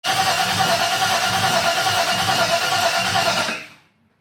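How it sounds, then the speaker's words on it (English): A 1978 Holden One Tonner engine turns over on the starter with starting spray, a loud steady rhythmic cranking churn up close that cuts off abruptly near the end. "I'm trying to get this thing started and spraying some Start Your Bastard in the car, be cranking it over, and it's backfiring"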